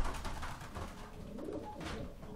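Racing pigeons coo nearby in a soft, continuous murmur of low, throaty calls that overlap one another at a steady moderate level.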